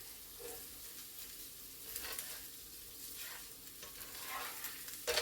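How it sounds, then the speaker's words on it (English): Eggs scrambling with sausage and potato in a hot pan give a steady sizzle and frying hiss, with scraping stir strokes swelling and fading through the stretch and a louder clatter near the end. "So you can see the pan was hot enough at this point. It didn't take the eggs any time at all to scramble."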